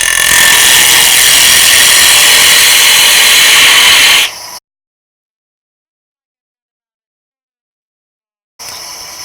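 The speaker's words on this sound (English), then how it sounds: "We'll turn the lathe on and hollow out the inside of the bowl." Wood lathe hollowing the inside of a maple burl bowl with a bowl gouge: a loud, steady broadband scraping hiss runs for about four seconds, cuts to silence, then resumes near the end.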